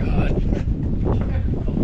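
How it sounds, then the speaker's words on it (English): Strong wind buffets the microphone on a snowy mountain in low cloud, a loud gusty low roar that fluctuates constantly close up, with a voice speaking faintly within it. "it is extremely windy out here and pretty low visibility because of the clouds."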